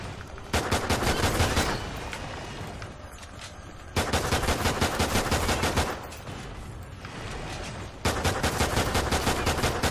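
Rapid bursts of pistol gunfire from Call of Duty Ghosts Extinction mode, with loud clusters of shots in several separate volleys and brief pauses between them.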